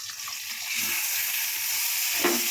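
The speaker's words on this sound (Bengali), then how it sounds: "আর এদিকে হচ্ছে মাছ ভাজা।" Close, steady sizzle of fish frying in hot oil, a bright hissing crackle that swells slightly and continues throughout without any talking.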